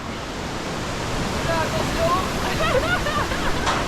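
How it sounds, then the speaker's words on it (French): Water churns and rushes around a submerged GoPro camera in a steady, dense, muffled wash, with faint warbling tones partway through. "La GoPro dans l'eau."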